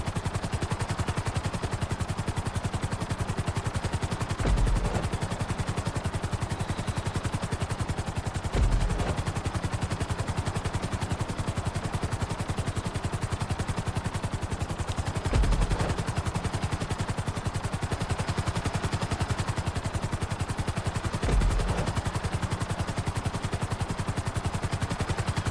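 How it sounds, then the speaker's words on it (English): A helicopter in Grand Theft Auto V hovers and sets down on a helipad, its dense rotor chop droning steadily for the whole stretch, with a few brief low thumps recurring every several seconds. "Bring the make me land. helicopter down gently onto the helipad."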